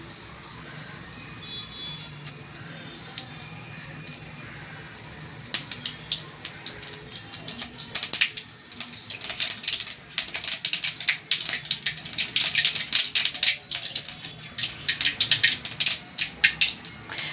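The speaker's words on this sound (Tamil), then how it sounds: "கடுகு உளுத்தம்பருப்பு போடுறேன். அது கொஞ்சம் பொரிஞ்சு வரட்டும்." Mustard seeds and urad dal spluttering in hot oil in a pan, a crackle of sharp pops and sizzling that grows denser and louder partway through, close by with no talking.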